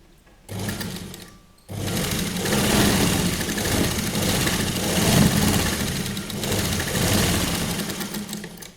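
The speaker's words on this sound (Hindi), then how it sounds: "अब हम इसके ऊपर सिलाइयाँ लगाएंगे इलास्टिक के ऊपर।" A sewing machine runs stitches over elastic on a child's Patiala salwar, a loud close motor whir starting briefly, pausing, then running steadily for several seconds with slight changes in speed, with no talk.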